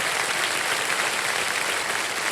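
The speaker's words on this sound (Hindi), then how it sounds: "बहुत जोर से ताली बजा" A television quiz show studio audience claps, a dense, even wash of steady applause that continues unbroken throughout, with no voices.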